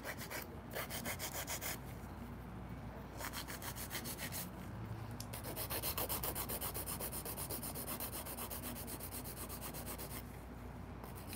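Hand filing to shape acrylic nails during an ombré manicure, a close, continuous rasping scrape with quick back-and-forth strokes and brief pauses, heard alone without voices.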